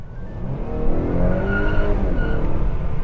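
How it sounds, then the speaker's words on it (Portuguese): A 2019 Honda Accord sedan in Sport mode with the window open squeals its tires under hard acceleration, a loud continuous screech over the engine's drone, with the turbo blowing off. "E cantando o pneu e o turbo espirrando."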